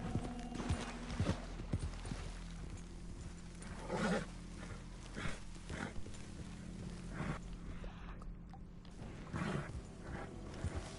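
Steady clip-clop of horse hooves at a moderate pace in Red Dead Redemption 2, with low rumbling and animal noises, including an alligator, in the background.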